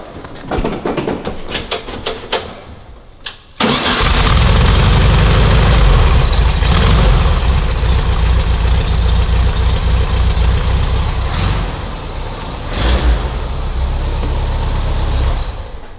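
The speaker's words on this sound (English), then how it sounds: "Start this one up, see if she fires up." A classic car parked on a sales lot cranks with rapid starter clicks, catches with a sudden loud roar, then settles into a deep, steady idle that dips briefly and swells again, close and loud.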